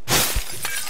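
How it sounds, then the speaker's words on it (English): Window glass shatters in the PUBG video game, one sharp close crash with bright tinkling debris trailing off briefly. "Have you smashed all the glass?"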